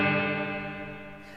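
Electric guitar chord ringing through a cheap reverb pedal set to a large iron-barrel-style reverb, a sustained wash that decays slowly over about a second and a half, heard alone.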